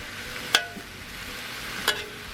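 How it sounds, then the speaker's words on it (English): Mushrooms stirred into a Szechuan beef stir fry in a hot pan, two sharp scraping stirs standing out over a low, steady sizzle, close and with no talking. "Love some mushrooms in my stir fry. We'll stir them in."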